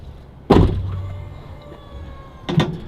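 A Tesla Cybertruck power running board deploys with a quick mechanical thunk as the door opens, then a second thud follows about two seconds later.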